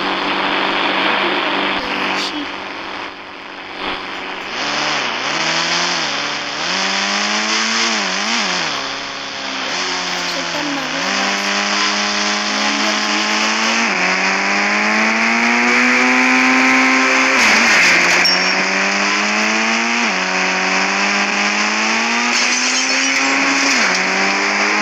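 A Range Rover engine drones steadily and loudly throughout, rising and falling in pitch as the car accelerates and shifts, heard from the driving seat with no talk over it.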